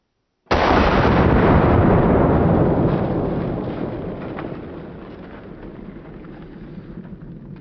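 A 45-70 buffalo rifle fires at a watermelon target outdoors, one sudden loud blast that booms and rolls away into a long, slowly fading rumble.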